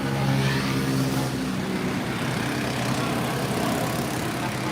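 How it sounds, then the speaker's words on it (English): Street traffic passing in Thailand, a steady engine drone with a motor revving up early on, heard at moderate distance as a continuous wash of road noise. "See how the traffic comes and goes?"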